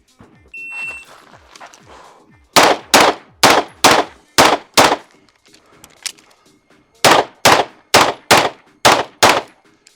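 A non-compensated Archon Type B pistol fires in rapid close-range strings, loud sharp cracks in two bursts of about seven and six shots with a short pause between. A faint electronic timer beep comes first.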